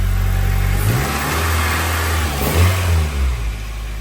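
A car engine revs loudly up and down close by, a deep throaty roar with rising surges and no talking.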